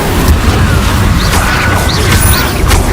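Incendio fire spell cast as a magical effect: a loud, continuous roaring, crackling blast of magic fire with booming, mechanical texture, filling the whole stretch without pause.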